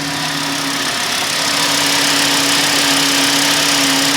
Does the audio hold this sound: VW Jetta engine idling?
yes